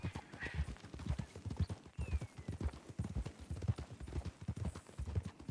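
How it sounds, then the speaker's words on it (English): Horse hooves clip-clop steadily in a video game, a quick, even rhythm of hoofbeats running through the whole stretch at moderate level with no talk over it. "it's my horse swerving to avoid the wall"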